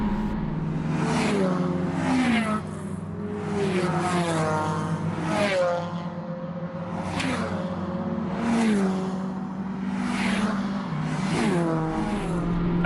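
A race car laps the Brands Hatch GP circuit, its engine loud and close, rising in pitch and dropping back through repeated gear changes, with occasional faint tyre noise beneath the steady roar.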